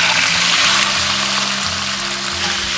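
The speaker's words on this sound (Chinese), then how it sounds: "下入虾煎一下。" Shrimp fry in hot cooking oil in a wok, giving a loud, dense, continuous sizzle close by, with a low steady hum running underneath and no speech.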